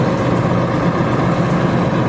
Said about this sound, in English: For fire truck.